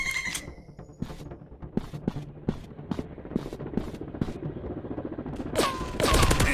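Rapid bursts of automatic gunfire from a PUBG shooter game, loud repeated shots in uneven volleys with sharper single cracks, ending in a dense louder burst.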